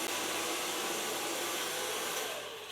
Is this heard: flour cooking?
no